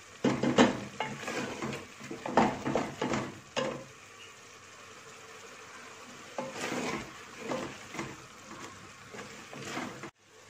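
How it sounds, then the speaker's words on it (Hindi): Minced meat (keema) frying in a wok for a keema karela dish, with bursts of sizzling and clattering stirring. Between the bursts it settles into a quieter, steady hiss, and no one talks. "अच्छे से भूनेंगे कीमे को ताकि इसमें किसी किस्म की कोई स्मेल ना रहे"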